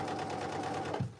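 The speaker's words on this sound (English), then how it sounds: "I'm going to turn it to a basting stitch, and I'm going to baste the top down well within the seam allowance" A sewing machine runs a basting stitch on cargo pants in a short burst of rapid, even mechanical whirring lasting about a second before it stops, close and clear.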